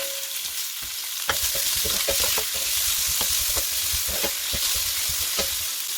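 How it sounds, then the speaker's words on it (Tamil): Onions frying in oil, a continuous close sizzle broken by repeated scraping and clicking as they are stirred in the pan. "ஒனியன் நல்லா ஃப்ரை ஆங்காட்டி நாங்கள் வெயிட் பண்ணுவோம்"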